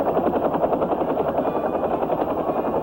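A helicopter flies overhead during a winter storm, its rotor beating in a steady, loud, rapid chop with a continuous low engine drone throughout.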